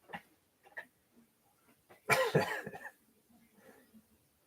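A single harsh cough bursts out close by, surrounded by quiet breaths and small shuffling noises.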